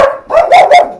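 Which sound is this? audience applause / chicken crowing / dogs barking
dogs barking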